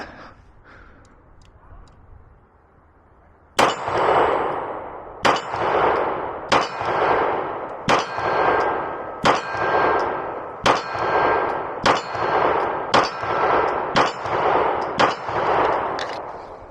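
A Beretta 92XI pistol fires eleven sharp shots at a steady pace, each crack followed by a ringing metallic clang from steel targets, loud and close after a few seconds of quiet outdoor ambience.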